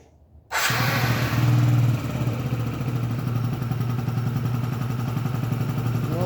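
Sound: Yamaha Jog 36 scooter engine starting and idling

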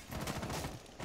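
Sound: gunfire shooting through a wall in Rainbow Six Siege video game

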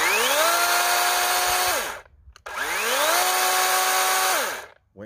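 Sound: chainsaw cutting a 2x4

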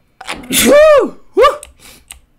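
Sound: sneeze

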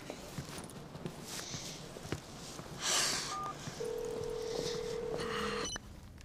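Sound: telephone number being dialed

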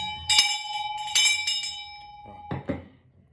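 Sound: bell ringing

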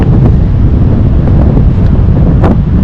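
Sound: strong wind on the beach at Digha

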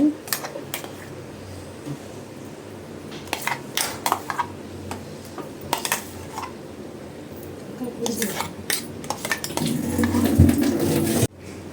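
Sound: stirring sapota kesari in a pan

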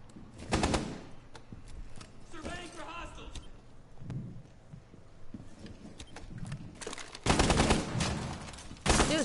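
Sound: gunfire in video game Rainbow Six Siege

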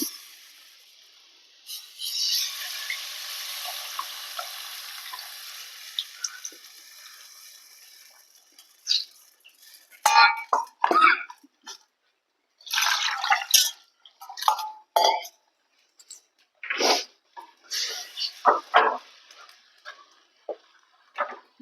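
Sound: pouring tamarind water into fish curry

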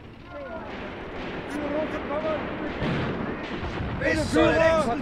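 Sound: artillery fire in video game Graviteam Tactics: Mius Front

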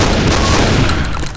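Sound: machine gun fire in Left 4 Dead video game

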